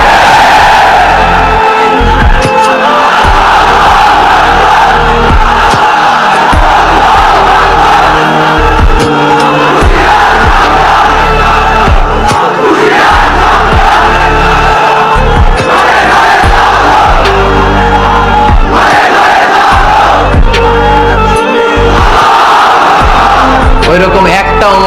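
Large crowd at a religious sermon gathering roaring back in loud unison response, a dense, sustained wall of shouting voices that swells and surges for the full length, very loud and close.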